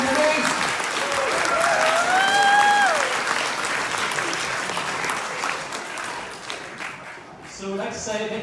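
A crowd at a ballroom dance charity fundraiser for Zambia claps loudly and steadily in sustained applause, with a brief tonal sound over it early on, then thins out toward the end.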